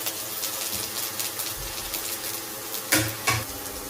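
Chopped garlic sizzling in hot coconut oil in a pan, a soft, steady hiss close by, broken near the end by a couple of sharp clinks of utensil against pan.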